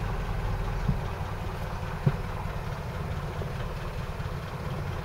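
A steady low engine rumble from a Land Rover Series idles continuously at slightly raised revs before the choke comes on, with a faint click or two over the drone.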